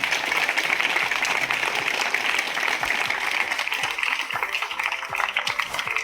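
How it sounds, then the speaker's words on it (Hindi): An audience at a Montessori school applauds, a dense steady clatter of many hands clapping together that continues throughout and tapers slightly toward the end. "तो सर के लिए एक बार जोरदार तालियां हो जाए।"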